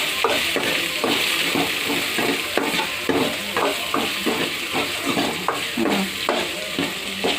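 Onions fry in a pan with a constant close sizzle, broken by a regular rhythm of spoon or spatula stirring scrapes against the metal, with no one talking.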